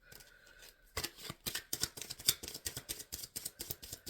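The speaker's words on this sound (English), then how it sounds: "let's pull a couple more cards for our Libras" Tarot cards being drawn and handled, giving a run of crisp, rhythmic snapping and sliding strokes, close and fairly quiet, starting after a brief pause and repeating steadily with no talking.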